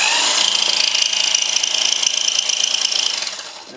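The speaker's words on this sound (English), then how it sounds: "I'm going to use some of the oscillating motion that this jigsaw can have, just so it's a little more aggressive cut." A jigsaw with its oscillating orbital action switched on cuts material for wing brackets, giving a steady, loud, buzzing saw rasp close by for several seconds before trailing off at the end, with no talking.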